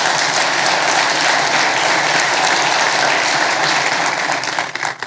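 A church congregation claps loudly and continuously, a dense, even wash of applause that holds steady for about five seconds before breaking off abruptly.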